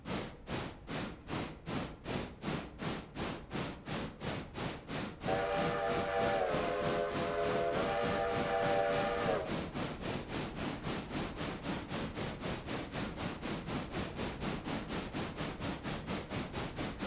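Locomotive steam whistle at a sawmill railroad gives a long, loud sustained blast over the steady rhythmic chuffing of the engine, which continues alone after the whistle stops.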